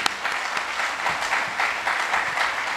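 Audience applause at a Janatha Vimukthi Peramuna (JVP) political rally: steady, dense clapping from many hands that holds at an even level from start to finish.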